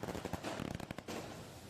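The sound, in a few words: fireworks set off at night by celebrating residents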